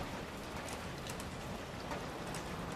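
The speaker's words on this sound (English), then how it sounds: "you can hear the rain pattering off of the metal vases" Steady rain patters on metal vases in the video game Expedition 33, a continuous close wash of drops with faint brighter ticks scattered through it and no voices.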